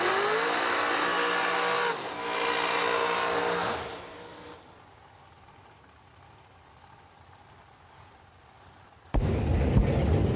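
Drag racing cars at the ACE Triple 20K event, a loud engine roar that surges, dips and fades away over several seconds before a sharp, sudden burst of noise returns at the end.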